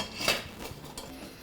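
A utensil clinks faintly against a bowl a few times while oregano, salt and pepper are mixed, quiet and brief with no talking.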